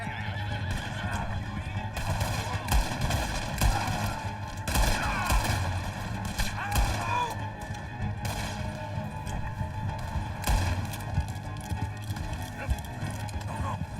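Gunfire crackles through a video game shootout with horses, bursts of shots scattered across the scene alongside whinnying and clip-clopping hooves, while voices talk over the action.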